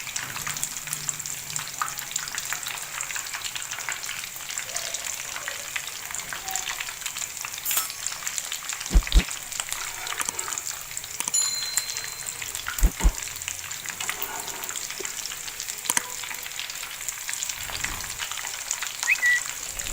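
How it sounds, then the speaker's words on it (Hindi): A constant bright hiss of homemade vegetable kebabs frying in hot oil after being turned, close and steady throughout, with a couple of faint low knocks partway through. "फ्राई हो गए। टर्न कर दिए मैंने।"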